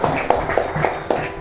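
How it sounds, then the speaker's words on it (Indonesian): A classroom of students claps their hands, a short burst of several distinct claps at an uneven rhythm over a murmur of room noise. "tepuk tangan terlebih dahulu"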